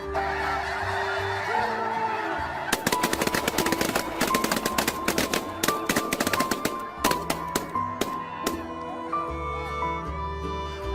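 Hunters open fire together on a flock of low-flying snow geese. A sudden barrage of shotgun blasts rattles in fast clusters over constant loud honking from the birds, then thins to scattered shots.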